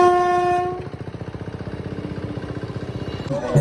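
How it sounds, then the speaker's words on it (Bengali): A train passing close by: a loud horn blast opens, then the rolling wheels settle into a fast, even clatter of rhythmic beats that keeps going to the end. "আর পাশ দিয়ে চলে যাচ্ছে ট্রেন।"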